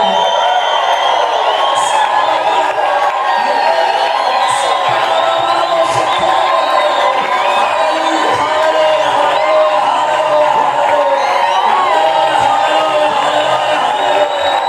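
A loud crowd at a Christian concert cheers and ululates in a long sustained wave of shrill trilling voices and shouts, close and continuous for the whole stretch.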